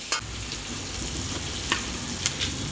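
Garlic frying in a pan, giving a steady, loud, close sizzle with a few sharper spatters and the stir of a spoon against the pan.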